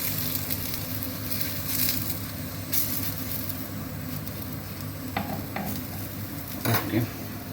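A paneer paratha fries in ghee on a flat pan, giving a steady, close hissing sizzle with a few soft scraping touches against the pan and a low background hum.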